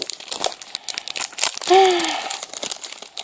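Blind box toy packet torn open by hand, close crinkling and ripping of a plastic wrapper in a short burst lasting a few seconds.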